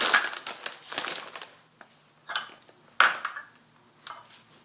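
A knife chops spinach on a board, giving a run of close crisp cuts and crunches followed by separate sharp chops and scrapes with short pauses in between, and no speech.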